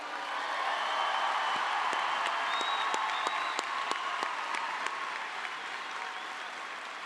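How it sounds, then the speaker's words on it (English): Applause at a high school graduation ceremony for seniors entering the Navy: a large crowd's sustained, even roar of clapping heard from a distance in a big space, with occasional sharper claps nearby. "Let's give them a round of applause, ladies and gentlemen."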